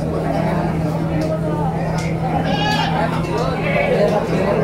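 Goats bleating amid the bustle of the Karangpucung goat market, with nearby chatter and a steady hum as crowd noise runs throughout.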